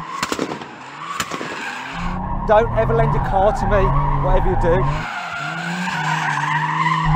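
A Toyota Supra TRD sliding sideways on a track, with tire squeal and engine popping and crackling under someone talking, the skid swelling loud through the middle before easing back.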